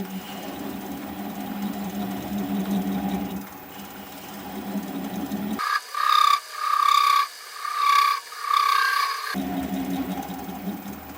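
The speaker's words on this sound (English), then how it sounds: "I am going to turn the speed down to about 400 RPM and use this 3/8 inch swept-back bowl gouge" A wood lathe at about 400 RPM turns a wooden vase while a 3/8 inch swept-back bowl gouge cuts, giving a steady whirring drone broken midway by several harsher scraping bursts.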